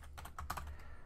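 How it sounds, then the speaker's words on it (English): Keys clatter on a computer keyboard during local server setup in VirtualBox and MAMP Pro, a quick run of close, crisp taps lasting about a second over faint hum. "I'm going to type in here"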